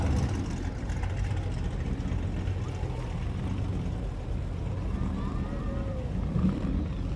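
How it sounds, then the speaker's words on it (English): Loud car engines idle and rumble steadily at a holiday parade in Granada Hills, a continuous low drone with faint crowd noise and talk in the background. "A lot of loud cars, too."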